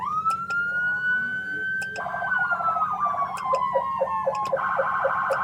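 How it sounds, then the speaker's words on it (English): An EMS 2018 Chevy Tahoe siren sounds up close and loud, a rising wail that gives way to a fast yelping warble and then a rapid pulsing tone. "if a siren is activated and you have your warning on"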